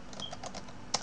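Soft, quick taps on a computer keyboard while entering a Linux terminal command, an uneven patter of keystrokes that ends in one louder press.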